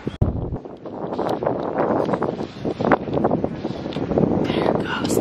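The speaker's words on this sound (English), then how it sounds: "So windy today, it's so nice." Gusty wind buffets the microphone outdoors at a horse show in Upperville, in uneven rumbling bursts, with a voice speaking faintly underneath.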